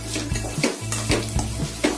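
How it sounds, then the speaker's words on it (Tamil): Bitter gourd stir-frying in a pan, crackling sizzle broken by repeated scraping strokes of a spatula in a quick, uneven rhythm, close and fairly loud. "இப்போ அது நல்லா வெந்துருச்சு, நல்லா வதக்கியாச்சு."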